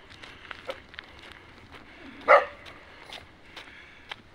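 A dog on a hillside path near a hostel in Pasighat, Arunachal Pradesh gives a single short bark at mid-distance amid faint outdoor background and soft footsteps.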